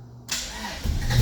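A Honda car engine cranks and catches, starting abruptly after a brief quiet moment and rising into a loud, rough rumble close to the listener.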